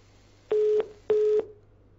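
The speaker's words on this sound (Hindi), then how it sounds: "चलिए, फोन डिस्कनेक्ट हो गया है।" Telephone tone after a disconnected call during a phone-in broadcast: two identical steady beeps, each about a third of a second, separated by a short gap, clear and close over a faint low hum.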